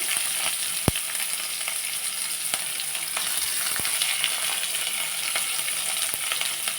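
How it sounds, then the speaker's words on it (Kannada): Okra and onion frying in a little oil for a Karnataka-style palya, a constant close sizzle with sharp spatula clicks against the pan scattered throughout. "ಸ್ವಲ್ಪ ಎಣ್ಣೆಲಿ ಫ್ರೈ ಮಾಡ್ಕೊಳ್ಳಿ"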